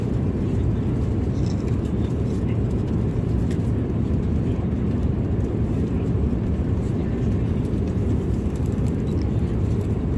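Steady, loud cabin roar of a passenger airliner in flight toward Atlanta, a broad low rumble and hiss that holds unchanged throughout.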